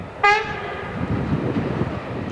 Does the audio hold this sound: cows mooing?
no